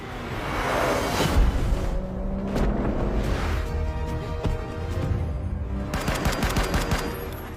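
Gunfire in an action film, a dense mix of shots and bursts under a busy, loud soundtrack with a sharp burst near the start and another cluster toward the end.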